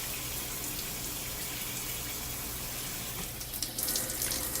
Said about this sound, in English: I just rinse my hair out completely